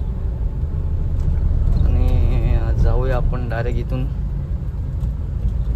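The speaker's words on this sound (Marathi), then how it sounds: "गाडी घेतली आपली इनोवा आणि मी चाललोय" A Toyota Innova drives along a road, its steady low engine and road rumble filling the background while someone talks over it.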